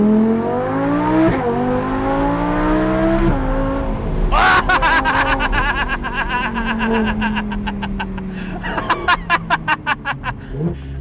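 Audi R8 V10 Plus on a hillclimb, its engine rising in pitch through revs with sharp gear shifts, ending in a rapid crackling burble, while people laugh and chatter nearby.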